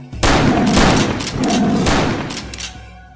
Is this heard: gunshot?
yes